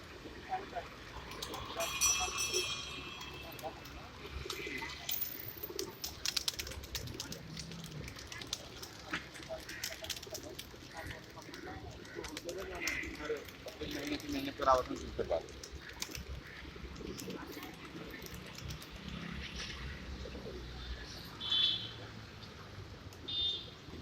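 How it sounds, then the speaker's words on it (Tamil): A flock of pigeons gathers in front of a Sai Baba temple in Nalasopara, Mumbai. Their soft cooing runs through a busy outdoor bustle, with people talking nearby throughout. "சாய்பாபா கோயில் முன்னாடி இவ்வளோ புறாக்கள் வந்து"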